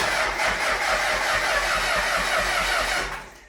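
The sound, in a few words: turbo diesel El Camino engine turning over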